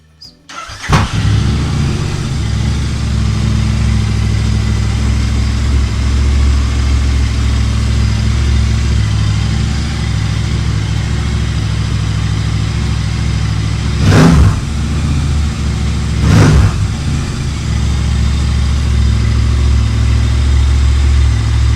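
A Royal Enfield Interceptor motorcycle engine cranks and catches, then settles into a steady, loud idle with two brief revs of the throttle partway through.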